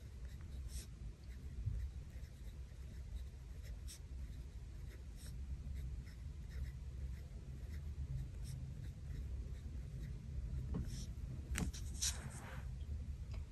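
A pen writes on planner paper in a quiet room, making soft scratchy strokes in irregular bursts, faint and close against a low steady background hum.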